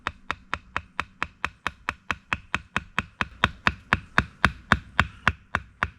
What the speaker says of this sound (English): Just a few nice easy taps. I just want to kind of split the bulk off of this